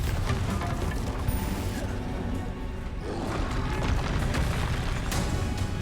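Bombarda and Confringo explosion spells going off in the video game Hogwarts Legacy, a dense run of loud booming blasts and crashing impacts layered over continuous game sound with no pause.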